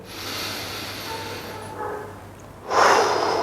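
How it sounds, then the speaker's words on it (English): A long, deep breath drawn in and let out during a golf stretching routine, close and breathy, a steady airy inhale followed by a louder exhale near the end. "Give me one good breath here."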